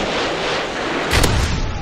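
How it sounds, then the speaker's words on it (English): Predator missile explosion in Modern Warfare 3 multiplayer, a loud booming blast rising out of dense battlefield noise and rumbling briefly. "Friendly Predator missile inbound."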